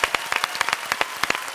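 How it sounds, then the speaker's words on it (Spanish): Sparse, uneven hand clapping from a crowd at an official announcements event, a few dozen sharp claps scattered irregularly over a short stretch, moderately close and with no voices. "Fuerte el aplauso para Walter, loco, y compañía."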